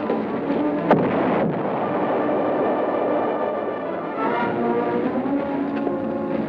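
A low, rumbling artillery barrage in a 1955 television war drama set near Saint-Lô rolls on continuously, with one sharp burst early and a dense, muffled roar throughout, loud and without speech.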